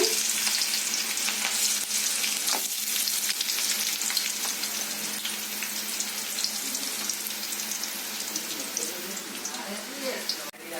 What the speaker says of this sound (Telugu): పావు టీ స్పూన్ ఆవాలు వేసుకున్నారు ఇప్పుడు కట్ చేసుకున్న ఉల్లిపాయ పచ్చిమిర్చి ముక్కలు